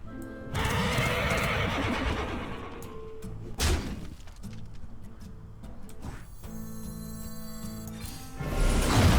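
A Dreadsteed, a demonic horse card in the Hearthstone card game, lets out loud neighing whinnies amid heavy thuds and crashing impact effects, with a sharp burst partway through and a thick rumble swelling at the end.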